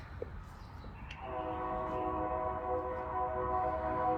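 A train rolls through near a backyard on a pleasant day, its horn sounding as a steady, loud multi-tone chord that holds on and on after a brief quiet start.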